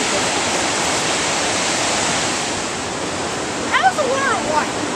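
Waterfall near Highlands, North Carolina, a loud, steady broadband rush of falling water filling the scene, with a brief chirping sound near the end.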